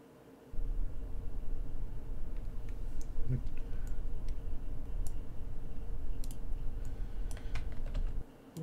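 Rapid typing on a computer keyboard, with fast, close, continuous key clicks and occasional sharper taps, over steady background noise for about eight seconds.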